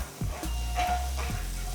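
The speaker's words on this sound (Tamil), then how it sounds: "ஒரு பேன்ல 1 டேபிள் ஸ்பூன் பட்டர் போட்டு 2 டீஸ்பூன் ஆலிவ் ஆயில் போட்டு இதில் பொடியாக நறுக்கின பூண்டு 1 டீஸ்பூன் போட்டு நல்லா மிக்ஸ் பண்ணணும்" Minced garlic sizzles in butter and olive oil in a pan, a soft, continuous frying hiss broken by a few low knocks, heard close and fairly quietly.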